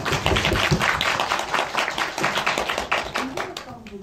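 An audience claps at a post-screening Q&A for the Korean film Flowers of Mold, with dense overlapping hand claps close by, mixed in with talking voices throughout.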